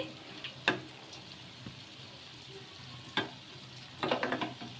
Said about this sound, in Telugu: ఫ్రై చేసేసుకోవాలి ఈ బొండలను